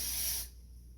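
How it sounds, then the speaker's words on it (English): A short burst of hairspray hisses from an aerosol can, loud and close, then stops, leaving a faint room hum. "shake it up really good, and then just give it a spray"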